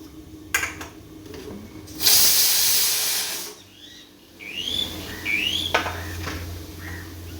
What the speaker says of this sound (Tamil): மூணு விசில் விட்டு ஆஃப் பண்ணிக்கலாம்.